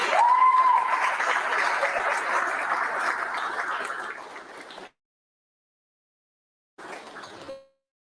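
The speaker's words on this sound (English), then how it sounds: "please give a round of applause" Audience applause greets a speaker walking on stage at a July 2021 motivational event: loud, steady crowd clapping for about five seconds, a cut to silence, then a shorter burst of clapping.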